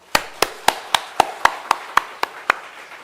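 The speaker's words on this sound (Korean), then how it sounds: "하나님께 영광 돌리는 박수 한번 합시다" A single person clapping in a church service, about ten sharp, evenly spaced claps in a slow, steady rhythm, close and isolated with no other sound.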